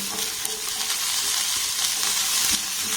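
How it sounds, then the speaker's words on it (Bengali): Cauliflower and beans stir-fry on a low flame, a dense continuous sizzle close by with occasional soft scrapes as the pieces are moved around the pan. "গ্যাসের ফ্লেমটাকে লো রেখে ফুলকপি আর বিনসটাকে একটু নাড়াচাড়া করে ভেজে নেব"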